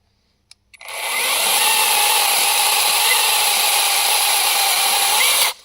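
An AL-KO 18 V cordless chainsaw cuts through wood with a loud, steady, high-pitched whine that holds for about five seconds after a couple of faint clicks, then stops sharply.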